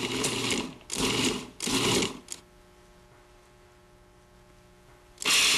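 Three short, loud pulses of a Cuisinart Classic Series food processor whirring as it chops onions, then a quiet pause before the motor kicks in once more.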